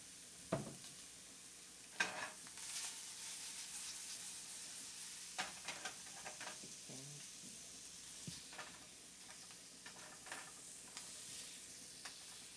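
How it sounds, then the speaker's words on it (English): Shrimp frying in butter in a pan: a faint, steady sizzle with occasional clinks and scrapes of stirring, heard alone without voices. "Me burning the butter in the pan here."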